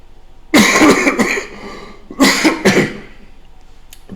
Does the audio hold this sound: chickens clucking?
no